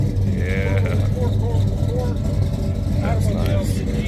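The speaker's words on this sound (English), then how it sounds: "You can hear that exhaust note." A classic Chevrolet Monte Carlo's exhaust note rumbles low and steady as it pulls out at the Dover Rod Run car show, a moderate engine drone beneath close conversation.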